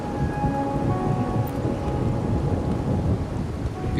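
In the video game Wuthering Waves, rain falls steadily in Raguna while low thunder rumbles continuously underneath, a dense, even storm bed with no talking.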